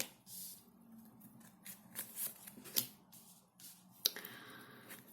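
Tarot cards being shuffled and handled close up, a series of soft riffling flicks and slaps at an uneven pace, quiet with no talking.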